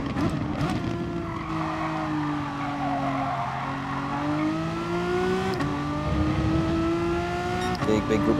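Race cars in the GT Sport video game roar steadily throughout, engines revving with rising and falling pitch as a pack battles closely, with brief tyre scrubs and a faint voice talking over the constant engine drone.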